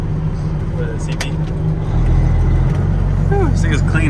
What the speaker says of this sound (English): You like driving this truck, buddy?